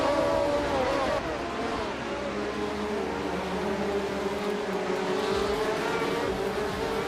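A 1976 McLaren M26 race car zooms along a track in a racing game, its engine a steady drone with a shifting pitch that stays constant for the whole stretch.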